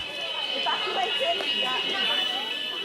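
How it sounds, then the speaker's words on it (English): A fire alarm in an airport terminal sounds as a continuous high-pitched electronic tone, loud and steady, while a crowd of people talks and moves about beneath it. "Just as people finally start leaving, there's confusion as the alarm stops sounding."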